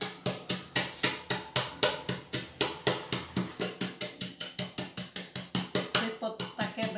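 Cashew nuts cracked inside a small bag with a spice masher, producing a fast, even series of about thirty sharp knocks, four or so per second, close and clear with no talk.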